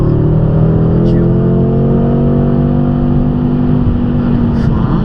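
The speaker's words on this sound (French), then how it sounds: "tu reprends les gaz progressivement et tu accélères fort" A BMW M5 30 Jahre with 600 hp and an Akrapovic exhaust accelerates hard on the Bugatti circuit, its engine note loud, steady and close the whole way through.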